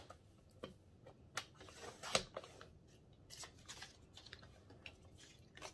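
Soft, scattered clicks and taps from cutting paper on a We R Memory Keepers flower punch board, irregular and close with one sharper snap midway, quiet overall.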